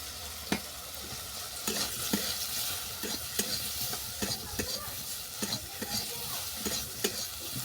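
Eggplant pieces dusted with turmeric frying in a pan and stirred, a steady bright sizzle broken by regular scraping knocks of a spatula, close up with no talking.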